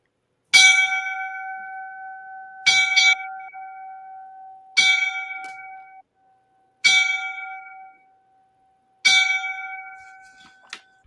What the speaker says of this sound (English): give him the five bells as a line of duty death